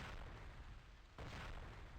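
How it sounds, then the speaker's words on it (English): Old cannon firing cannonballs in a naval video game, a dense rumbling boom that swells again midway as a second shot lands, loud and continuous with no voices. "I restored an old cannon that used to fire"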